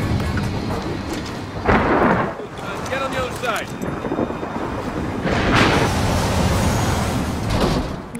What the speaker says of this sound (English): This storm's just getting worse.